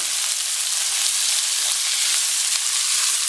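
Onion and tomato sizzle steadily in a hot pan, a loud, continuous crackling fry with no pauses and no voices.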